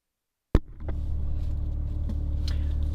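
A BMW G80 M3 on the road, heard from inside: after silence, a sharp thump, then a steady low engine and road rumble that holds at an even, fairly loud level for the rest, with no talking.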